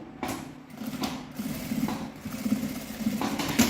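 A sewing machine stitching the seam of a fabric shoulder bag, running in short close bursts of rapid mechanical whirring with brief pauses between them, and no talking.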